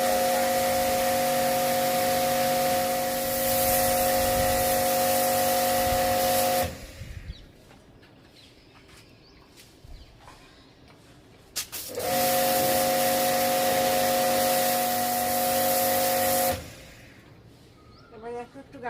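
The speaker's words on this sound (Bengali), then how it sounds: "এবার একটু গাছগুলোকে স্নান করাই।" A pressurized sprayer mists water onto plants in two long, loud hissing bursts with a steady pump tone, separated and followed by quieter pauses, and someone talks between them.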